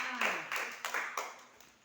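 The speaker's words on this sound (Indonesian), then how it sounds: "Oke, berikan tepuk tangan." A few short bursts of clapping from children, scattered and fading out, fairly close and moderately quiet, with no talking.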